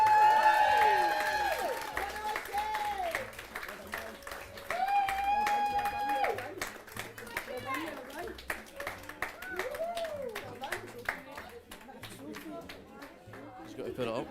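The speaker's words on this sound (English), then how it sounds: "Once again, can we have another cheer for Wishaw Eclipse?" An esports tournament crowd claps and cheers for the Fortnite champions, scattered applause rising and fading under a host speaking over a microphone.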